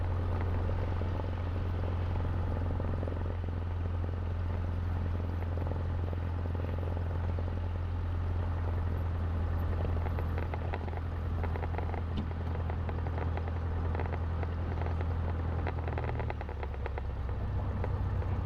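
Small training airplane engine at takeoff on runway 19 right, a loud, steady low drone with strong propeller hum that holds constant throughout, close and continuous inside the cockpit.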